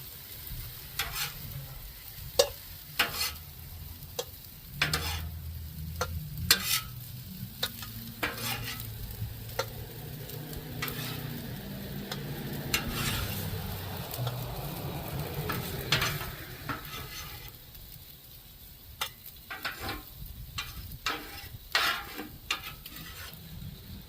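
Fried rice with garlic sizzling in a hot pan, continuous frying hiss broken by frequent sharp scrapes and clacks of a spatula stirring, close up with no talking.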